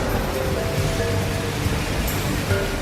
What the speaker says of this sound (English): A torrential downpour,